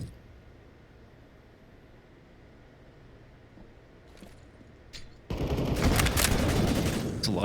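Gunfire in Counter-Strike on the Vertigo map: a quiet stretch with faint distant shots, then a dense, loud burst of rapid fire that takes over the last two seconds.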